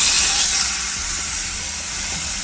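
Fried fish pieces sizzle and hiss steadily in a pan with barely any oil, a continuous bright frying noise that holds at a close, fairly loud level throughout.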